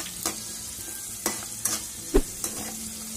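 Oil sizzles softly as vegetables sauté, with a few spoon scrapes and stirring clinks spaced irregularly throughout.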